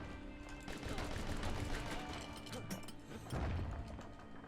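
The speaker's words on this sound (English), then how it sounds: "It's really weird how the turret shots curve when you roll" Rapid turret fire in the action game Bastion, a dense mechanical clatter of repeated shots under game sounds and some speech, steady and moderately loud for the whole stretch.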